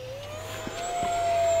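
A ready-to-fly RC trainer airplane with an electric motor throttles up, its steady high whine rising in pitch and loudness over under two seconds, clear and fairly close with no talking.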